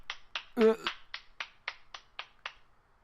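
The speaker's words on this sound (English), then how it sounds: "He started to applaud." About ten sharp claps ring out at an even pace in the video game Steins;Gate 0, with a short voice sound near the start.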